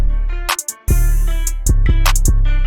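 A second guitar plays a melody an octave higher at half time within a hip-hop beat, sustained tones over deep booming bass with sharp hi-hat and snare hits and a brief dropout, close and without talk.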